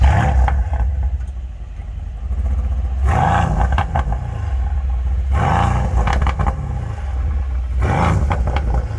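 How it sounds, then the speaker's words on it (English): The V8 engine of a Mercedes-AMG C63S barks through its exhaust in three or four deep, throaty revs over a steady idle rumble, loud and close, with no talk. "or do you prefer the sounds of the last V8 AMG C63S,"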